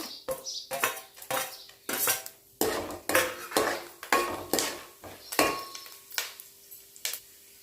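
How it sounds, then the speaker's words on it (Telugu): A metal spoon clatters against a pan while chana dal and urad dal are stirred in, with repeated irregular scraping and clinking strokes, close and moderately loud, with no talk. "ఇప్పుడు పచ్చిశనగపప్పు మినపగుండ్లు కూడా వేసుకొని కలుపుకోవాలి"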